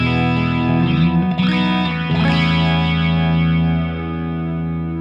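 Sustained distorted guitar chord swept by a flanger effect from a Sonicake Matribox, its whooshing comb-like sweep rising and falling before the sound settles and fades slightly.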